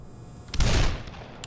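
A single heavy burst from an automated machine gun in Black Mesa, a loud booming blast that rumbles and fades within a second, followed by a faint click.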